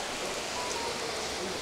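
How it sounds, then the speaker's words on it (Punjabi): Heavy rain falls in Ludhiana under dark daytime clouds, making a steady, even hiss of pouring water with no breaks. "ਲੁਧਿਆਣੇ ਤੋਂ, ਜਿੱਥੇ ਤੇਜ਼ ਬਰਸਾਤ ਸ਼ੁਰੂ ਹੋ ਚੁੱਕੀ ਹੋਈ ਹੈ"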